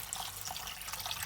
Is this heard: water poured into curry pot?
yes